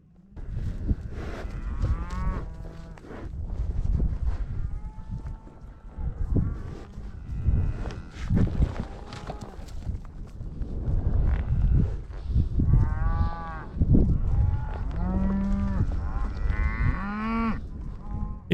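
A herd of cattle on a Montana cattle drive moo repeatedly, long drawn-out calls overlapping from several animals at varying distances, with light wind noise in the background.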